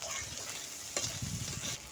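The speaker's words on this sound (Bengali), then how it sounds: "আমার মাছ ভাজা প্রায় শেষের দিকে" Small fish frying in oil in a pan, a quiet steady sizzle with a single brief clink near the middle and some soft low rumbling, close but faint, with no voices.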